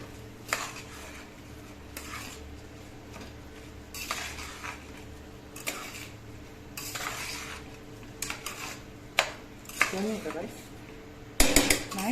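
A pot of spinach paneer pulao with rice is stirred, producing repeated clinks and scrapes of a spoon against metal in irregular bursts, close by, with brief talk now and then.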